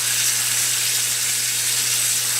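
A salmon fillet sears in a hot pan, giving a steady, even sizzle and hiss that holds at constant loudness throughout, close up with no voices.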